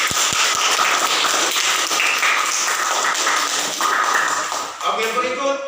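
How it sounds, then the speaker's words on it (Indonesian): Pupils in a classroom applaud a student group, a loud, close clatter of many hands, with voices mixed in and the clapping tapering near the end. "Oke, kita berikan tepuk tangan."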